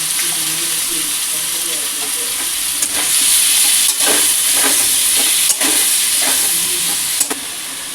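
Steady, loud sizzling of food frying in a pan with tomato and yogurt, with a few scraping stirs breaking through the constant hiss.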